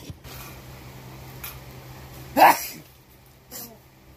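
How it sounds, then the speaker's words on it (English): A single sharp sneeze bursts out over a low background hum, followed a second later by a fainter, shorter one. "I got the sneezes"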